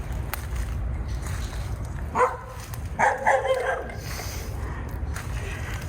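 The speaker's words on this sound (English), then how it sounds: "And there's a dog." Outdoors by Lake Brim in Winter Garden, Florida, a dog barks in a few brief bursts at a moderate distance over a constant, noisy ambient wash.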